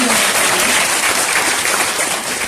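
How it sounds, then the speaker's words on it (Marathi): Students at a seminar break into dense, loud applause for a classmate, an even wash of clapping lasting a couple of seconds. "टाळ्या झाल्या पाहिजेत त्या मित्रासाठी"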